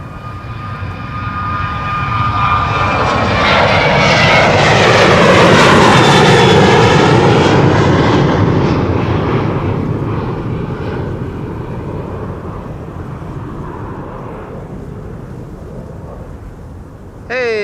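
A Ryanair jet airliner takes off from the Polderbaan runway at Amsterdam Schiphol, its engine roar swelling loud and near, peaking mid-way with a rumbling, buzzing whine, then slowly fading into the distance.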